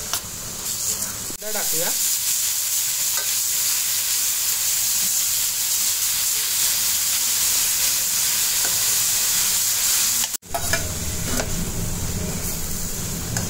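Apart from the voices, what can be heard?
cumin seeds sizzling in hot oil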